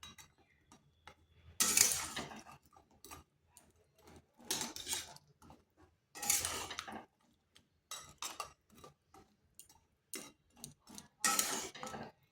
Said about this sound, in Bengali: একটু নেড়ে দিচ্ছি যাতে দুই পাশটা ভালোভাবে রসে ডুবে যায়।